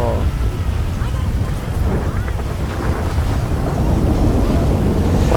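A meteor storm in a modded GTA 5 game rages as a loud, continuous rumbling roar with heavy wind-like noise and low booming, close and overwhelming throughout.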